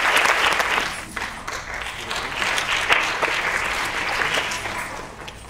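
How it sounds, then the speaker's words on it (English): Audience applause for dancers at a live stage performance, a steady dense clapping that holds fairly loud for the whole stretch with no speech over it. "And a big round of applause."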